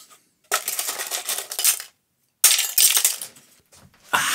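A handful of guitar picks rattles and clicks in three close, bright bursts separated by brief silences, with no voices present.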